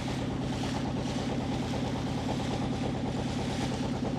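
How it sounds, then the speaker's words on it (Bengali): A country boat's engine thrums steadily as it crosses the Meghna River from Bhairab ghat toward Ashuganj, a constant mid-low mechanical drone with regular pulsing, close and unbroken for the whole stretch. "নৌকাঘাট থেকে নৌকাটি ছেড়ে যাচ্ছে আশুগঞ্জ নৌকাঘাট তথা ফেরিঘাটের উদ্দেশ্যে"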